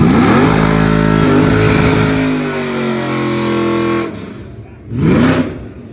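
A Trans Am engine roars at high revs for several seconds with a rising and falling pitch, then cuts back, followed by one more short burst of revving for a tire-warming burnout, loud and close.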